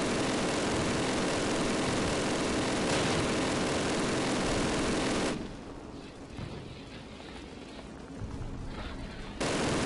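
Machine gun fire in the Call of Duty video game: dense, rapid bursts rattle loudly for about five seconds, drop to quieter scattered shots, then the heavy firing resumes at the end.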